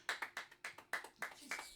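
An audience in a hall gives a thin round of applause, a handful of separate claps at a quick, even pace, faint and brief.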